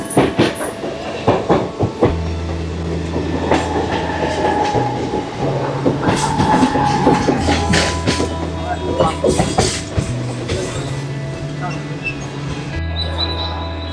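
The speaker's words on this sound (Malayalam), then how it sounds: "ട്രെയിൻ." A Mumbai local train rolls past close by, rumbling with a low drone, rhythmic clickety-clack and sharp metallic clanks from the wheels, while voices murmur underneath.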